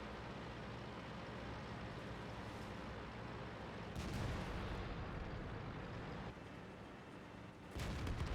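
Tank cannon fire in World of Tanks: booming shots and explosions over a steady engine rumble, with sharp blasts near four and eight seconds.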